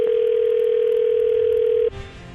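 A loud, steady single-pitch telephone tone sounds on a call for nearly two seconds, then cuts off into a quieter line hiss with a faint click.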